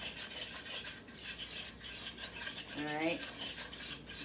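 A metal whisk stirring a flour-thickened sauce in a pan on a home kitchen stove: a steady, continuous scraping and swishing close by, with a brief spoken remark over it.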